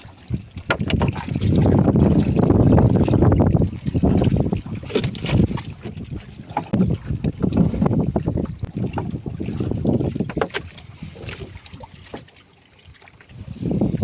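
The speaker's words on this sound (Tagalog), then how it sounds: "Pero hangin lang naman, wala na masyadong alon." Steady wind buffets the microphone with loud rumbling gusts, joined by faint splashing water.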